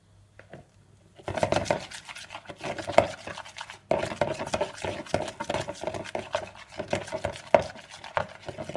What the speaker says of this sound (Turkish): Şöyle bir kaşıkla şeker atıyorum